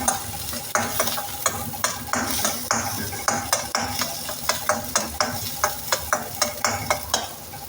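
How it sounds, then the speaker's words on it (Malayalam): Dried red chillies and fenugreek seeds are stirred in a hot pan, with a spoon scraping and tapping in a regular rhythm over a soft, steady sizzle. "വറ്റൽമുളകും ഉലുവയും അതിൽ ചേർത്തു. നന്നായി ഇളക്കിയതിന് ശേഷം"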